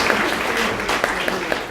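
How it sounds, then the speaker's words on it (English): Applause from a hackathon audience welcoming out-of-state and overseas attendees, a dense steady patter of many hands clapping at moderate level with a few sharper claps standing out, no voices over it. "Give yourselves a round of applause."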